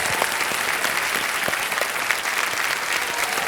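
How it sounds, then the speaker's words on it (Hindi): Studio audience at the KBC India quiz show applauding a contestant, a dense, steady wash of clapping that runs unbroken and fairly loud throughout, with no speech over it. "ताली बज जाए इनके लिए"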